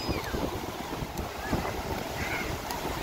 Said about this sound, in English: The wind has picked up here, I can tell you that much.